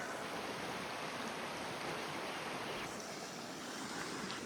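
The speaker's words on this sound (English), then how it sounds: "This is the river I was talking about" A river at a hiking trail crossing on the Appalachian Trail near Monson rushes in a steady, dense wash of water noise that stays even and fairly close throughout, with no voices.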